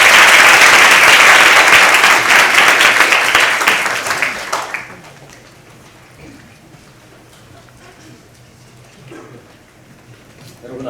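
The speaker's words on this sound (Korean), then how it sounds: "큰 박수 부탁드리겠습니다." An audience at an academic conference applauds loudly, dense clapping filling the room for several seconds before fading out into quiet room murmur.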